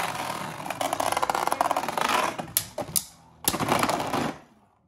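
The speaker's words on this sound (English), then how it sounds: "All right, let it rip, Joker." Beyblade Burst spinning tops, a Hasbro Union Achilles A5 among them, whir and clatter against a plastic stadium after launch, giving a dense rattling scrape with sharp collision clicks that cut out and then fade away.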